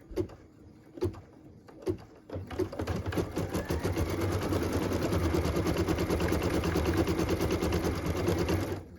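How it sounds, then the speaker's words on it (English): An embroidery machine stitching a tree trunk design for a Christmas ornament, a few separate starting thumps followed by a fast, steady mechanical chatter that runs loud and close to the end. "We're gonna put it in our machine so that we can stitch the tree trunk"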